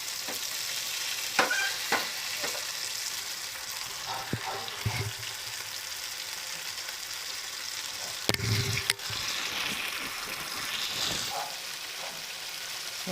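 Pomfret fish fries in a pan with a steady sizzle, broken by a few louder scraping and stirring sounds and a brief clatter near the middle.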